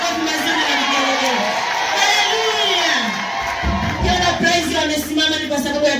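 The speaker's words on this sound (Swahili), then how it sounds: "Mshangilieni baba." A church crowd cheers and shouts loudly for teacher Joram at a worship event, with sustained whoops and children's voices and a voice calling out over the din throughout.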